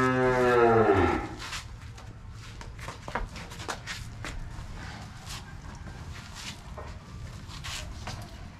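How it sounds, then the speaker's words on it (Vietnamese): A single cow on a farm gives a loud, drawn-out moo close by at the start, followed by quiet farmyard rustling and shuffling with scattered faint clicks. "Bò này nè."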